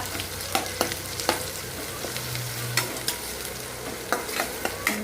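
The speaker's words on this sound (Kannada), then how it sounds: "ಉಳ್ಳಾಗಡ್ಡಿ ಹಾಕಿ ಈ ಥರ ಫ್ರೈ ಮಾಡ್ಕೊಳಮಂತ" Chopped onion fries in a pan while a spoon stirs it, sharp scraping clacks repeating irregularly over a continuous low sizzle, close and fairly loud, no talking.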